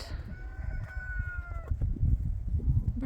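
A farm rooster crows loudly and close, one long drawn-out call trailing off, followed by low clucking and barnyard noise.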